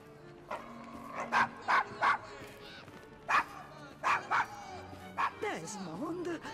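A dog in the Assassin's Creed Syndicate video game barks in a series of sharp, yappy bursts, then gives a whimpering whine near the end, with steady background ambience underneath.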